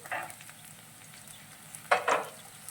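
Carrots, potatoes, green peas and onions frying in a pan for poha upma, a soft steady sizzle with a couple of louder bursts of crackling and stirring near the end, no talking.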